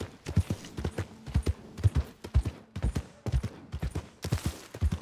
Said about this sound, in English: I'm gonna stick to my horse.